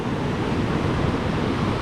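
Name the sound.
river rapids rushing water, Hermit Rapids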